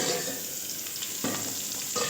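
Cucumber and potato pieces fry for a posto curry, giving a loud, steady sizzle broken by a few soft stirring scrapes in the pan.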